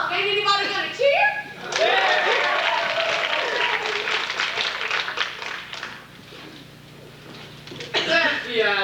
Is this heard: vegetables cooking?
no